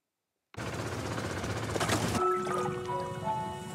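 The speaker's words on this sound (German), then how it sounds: "Krach kommt nur vom Kompressor." A diving compressor on a boat starts abruptly with a loud, harsh rattling clatter, then settles into a steadier droning hum with sustained mechanical tones.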